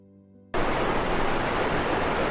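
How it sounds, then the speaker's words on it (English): Thi Lo Su Waterfall in Tak Province, Thailand, its water plunging 250 meters down jagged cliffs: a dense, steady roar of falling water begins abruptly after a quiet tonal moment and continues loudly. "The water plunges 250 meters down jagged cliffs, creating a symphony of sound and motion."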